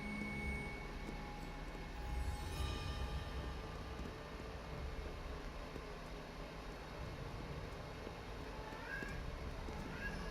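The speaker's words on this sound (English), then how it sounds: "Kitten." A cat meows in Hogwarts Legacy, short tonal cries near the start and again toward the end, set over a continuous low ambient rumble of game background sound.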